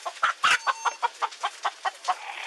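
A scared chicken rescued from a burning shed clucks in a quick run of about a dozen short, evenly spaced calls, with a couple of louder squawks near the start, fairly close and with no talking.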